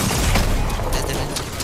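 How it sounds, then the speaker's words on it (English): Turret firing in a video game, a dense burst of rapid shots filling the whole moment, loud and continuous with no gaps. "The turret is firing."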